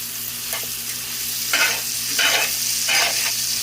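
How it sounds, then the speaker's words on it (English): Vegetables for turkey soup being sautéed and stirred in a pot, with a steady sizzle under three louder scraping stir strokes that come at roughly even intervals, close up, no talking. "So we're just going to start stirring it up. And we're just cooking it down."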